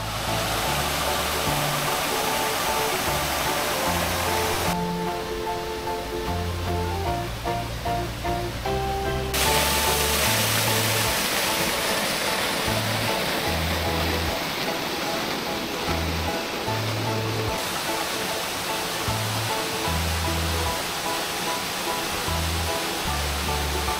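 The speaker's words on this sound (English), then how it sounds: "Now arrived at this series of waterfalls with a little pool in it." A series of waterfalls spilling into a small pool in Tuzla, Bosnia, a steady, loud, broadband rush of falling water filling the whole stretch, with faint tonal background sounds layered over it for a while.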